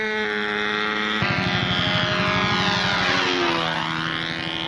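The engine of a Brodak Cardinal control-line model airplane runs rich on muffler pressure in flight, a loud sustained buzzing whine whose pitch rises and falls as the plane circles.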